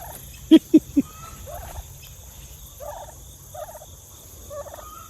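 A turkey gobbles in a quick burst of three loud calls, followed by softer clucking and warbling notes nearby.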